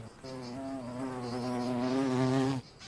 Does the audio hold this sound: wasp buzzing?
yes